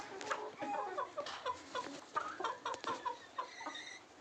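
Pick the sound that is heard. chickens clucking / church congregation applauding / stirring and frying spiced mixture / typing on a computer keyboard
chickens clucking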